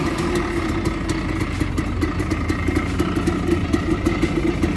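A 1992 Yamaha DT 180 motorcycle engine idles steadily nearby, a loud continuous rumble with rapid regular pulsing throughout.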